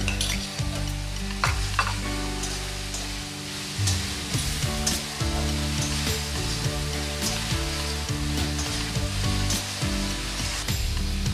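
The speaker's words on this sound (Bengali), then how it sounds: "এবার আমি ভেজে রাখা আলুগুলো দিয়ে নেব, দিয়ে আবারও 2 থেকে 3 মিনিট ভালো করে কষিয়ে নেব।" Masala and fried potatoes sautéing in a pan for a koi fish curry, a steady close sizzle with repeated scraping strokes of a spatula throughout, no voices.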